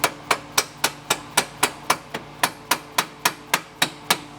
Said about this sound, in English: you use a mallet to just tap